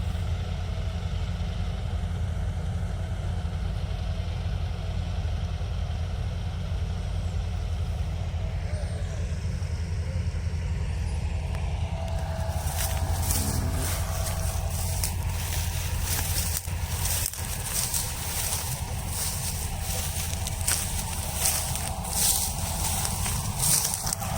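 A John Deere tractor engine runs at a wheat harvest with a steady, loud low rumble throughout, turning harsher and more clattering about halfway through.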